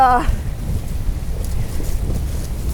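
Strong wind buffeting the microphone at a kiteboarding session, a constant low roar and rumble, after a brief voice at the very start.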